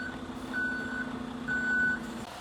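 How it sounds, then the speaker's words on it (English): Concrete truck reversing at a construction site, its backup alarm giving two clear beeps over a low idling diesel rumble. "Then the concrete truck is brought in."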